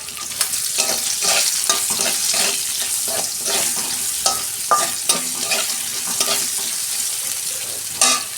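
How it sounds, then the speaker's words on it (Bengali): Sliced onion fries in hot oil with whole cumin in a pan, a bright steady sizzle broken by frequent crackles and spatula stirring clatter, close and loud. "দু মিনিট আমি পেঁয়াজটা ভেজে নেব"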